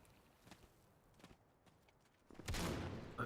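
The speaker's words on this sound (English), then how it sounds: "gets taken out by Major with that shotgun" Shotgun blasts in a tactical shooter match on a manor house map, a few sharp distant shots early followed by a louder, closer burst of fire at the end, with no talk.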